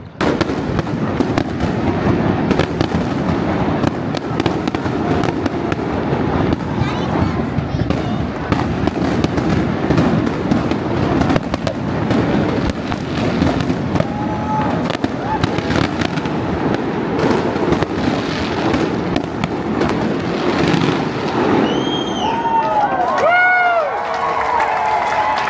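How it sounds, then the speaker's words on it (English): A Friday-night fireworks show in front of the Hilton in Waikiki, with dense, continuous bangs and crackles. Whistling rockets rise near the end, and a crowd murmurs and cheers underneath. "Every Friday night, they have a fireworks show here in front of the Hilton here in Waikiki."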